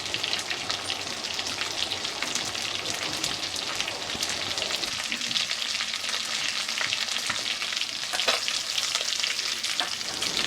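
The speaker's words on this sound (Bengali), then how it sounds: "মাছগুলো মিডিয়াম ফ্লেমে ভেজে নিতে হবে।" Katla fish heads frying in oil on a medium flame give a steady, crackling sizzle like light rain, with occasional stirring and spatters, close and uninterrupted by voices.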